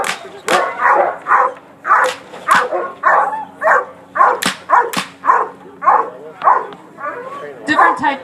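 A police dog barks repeatedly during bark-and-hold training, loud close barks in a steady rhythm of roughly two per second, with a voice talking between and over them.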